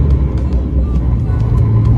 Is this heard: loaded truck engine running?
yes